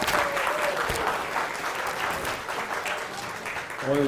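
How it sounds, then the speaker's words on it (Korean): An audience at a 2019 award lecture breaks into warm applause, a dense, steady patter of clapping heard from within the hall, with a brief voice near the end. "박수 한번 합시다"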